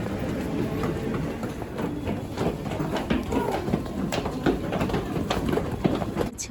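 A commuter train rolls through a station, its rumble and rhythmic clattering wheels steady and fairly close, with no one speaking.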